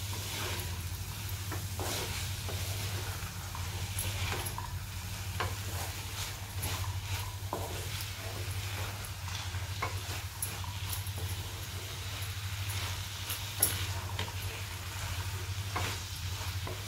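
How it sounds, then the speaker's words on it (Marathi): Boiled chickpeas for usal being sautéed in a pan, a steady soft sizzle under intermittent scraping stirs and light clinks, continuous and moderately quiet throughout. "व्यवस्थित आपण आता हे परतून घेत आहोत."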